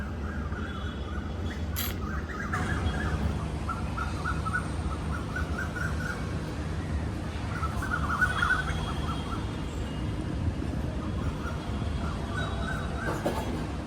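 Birds chirp and call through a steady outdoor hum on a Sunday morning, with small clustered tweets repeating in the background at moderate distance while low traffic-like rumble persists underneath.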